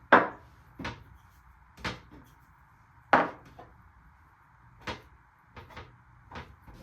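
Meat being cut into pieces on a board for searing, a string of separate knife chops striking the wood one at a time with short gaps between them, fairly close and fairly quiet, with no talking.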